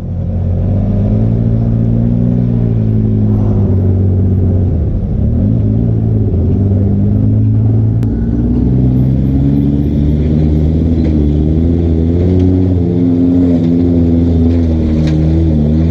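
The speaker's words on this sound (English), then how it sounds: "Sometimes you gotta give it some gas, Joey." An off-road vehicle engine on a trail at Windrock, revving hard with a loud, close, continuous rumble that rises and falls in pitch, with a dip midway and steady throttle afterward, no talk over it.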